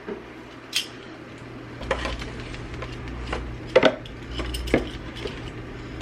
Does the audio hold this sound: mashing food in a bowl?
yes